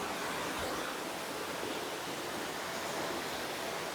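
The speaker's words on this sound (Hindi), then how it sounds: "हम अभी चढ़ रहे वाटरफॉल।" Forest waterfall heard up close as a loud, constant broadband roar of rushing, splashing water with no other sounds and no talking.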